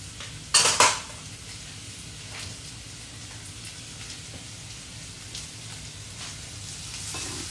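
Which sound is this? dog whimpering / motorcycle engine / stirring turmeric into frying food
stirring turmeric into frying food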